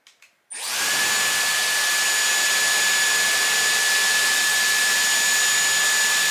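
Dyson Airwrap hair styler blowing steadily during a blow dry, a loud, close, continuous airy whoosh with a thin whine that starts after a brief clatter of handling and runs unbroken to the end.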